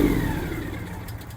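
The engine of a Bad Boy mower runs out of fuel, its running note sinking and fading as it winds down and dies, close by and alone.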